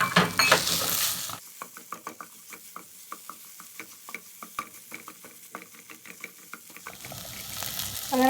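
Crushed pre-cooked beef sautéed in a pan, with steady frying sizzle and a run of regular spatula scrapes and stirring taps, close and fairly loud, no talking.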